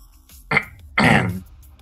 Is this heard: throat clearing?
yes